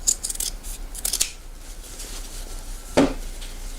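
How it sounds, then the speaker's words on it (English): Scissors snip through thick fabric trim on a sewn trick-or-treat basket, a quick run of crisp close cuts followed by a pause and one louder final snip. "the best thing to do is to cut that back really, really sharpish"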